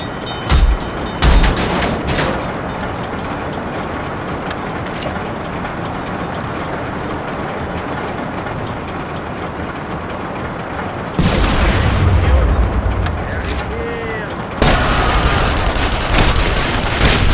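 Gunfire in The Saboteur: loud bursts of rifle and machine-gun fire in dense volleys, with heavy booms and steady battle noise throughout, little speech.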